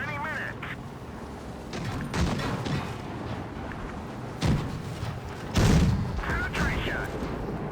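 Tank shells striking armor in a World of Tanks Blitz battle, with a Deathstar tank taking repeated hits: several sharp booming impacts stand out over a continuous rumbling battle din, alongside odd quacking-like game tones.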